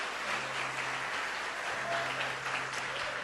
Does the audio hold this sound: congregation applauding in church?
yes